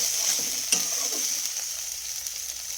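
Spice paste with fenugreek leaves and a little sugar sautéing in a pan, a steady close sizzle with soft stirring scrapes and one brief knock, no talking.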